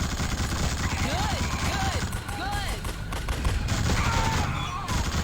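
Gunfire from soldiers being shot in the PS2 game The Suffering: Ties That Bind, rapid bursts of shots over a continuous dense battle din with rising and falling whistling tones, loud and sustained throughout.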